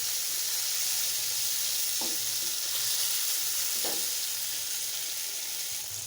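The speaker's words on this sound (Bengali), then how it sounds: "মাছটাকে উল্টিয়ে দিচ্ছি।" Marinated tilapia frying in hot oil just after being flipped in the pan, a steady close sizzle throughout with a couple of brief scraping or stirring sounds, no talking.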